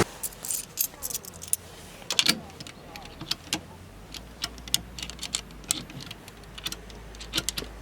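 Coins clink and jingle as they are fed one by one into a railway ticket machine, with scattered light metallic taps over a low mechanical hum and a soft voice in the background.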